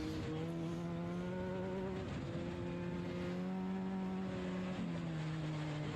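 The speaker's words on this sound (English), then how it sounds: "Yeah, you can hear that engine." A Class 10 off-road race car engine drones steadily in a desert race, a sustained tonal whine with slight pitch dips as it shifts, heard from a moderate distance and fairly faint.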